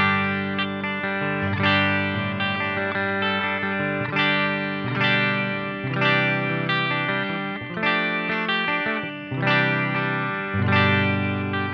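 A Strandberg Boden Standard NX 6 electric guitar plays through a clean channel with chorus-like shimmer, strummed chords ringing in a steady rhythm with rich sustain, loud and close with no voices.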